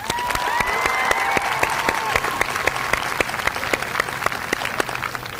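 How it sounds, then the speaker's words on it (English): A 2012 graduation ceremony crowd applauds the parents with brisk, close clapping, individual sharp claps standing out over a dense sustained roar, with faint cheering mixed in. "How about a round of applause?"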